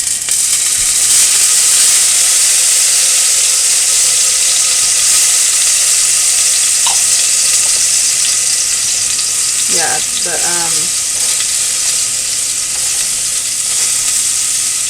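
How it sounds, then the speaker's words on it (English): Garlic sizzles in olive oil in a home kitchen pan for a minestrone soup, a steady bright hiss lasting throughout, with a few brief spoken words partway through. "I just put a little bit of olive oil. I'm gonna drop in some garlic"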